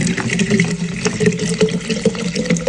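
Saryagash mineral water is poured for a homemade mojito, producing a close, loud, bubbly gushing stream that runs steadily throughout with no voices.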